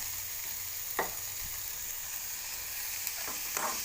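Tomatoes with salt sautéing in a pan give a steady, close sizzle, broken by a few brief scrapes of stirring; no voices.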